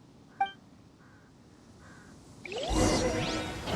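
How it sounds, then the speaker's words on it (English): In a Genshin Impact game world, a bird gives a single crisp caw over quiet ambience, then a few softer calls, before a rising whoosh of wind swells at the end. "The birds call."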